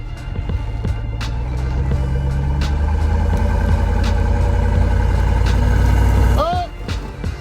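A vehicle engine runs steadily, close and loud, during a push bar test with the XP2000 tire pusher on a rusty Minnesota vehicle. The drone holds for several seconds and then drops off near the end, with a brief squeal or clunk as it does.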